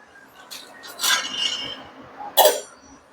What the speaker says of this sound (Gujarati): તો હવે આપણે દાળ મૂકી દઈશું કુકરમાં આ રીતે